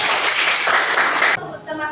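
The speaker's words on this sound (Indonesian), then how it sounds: "Tepuk tangan dong untuk Firman" Classroom of students applauding a classmate, a dense burst of clapping that stops abruptly after about a second and a half, followed by faint voices.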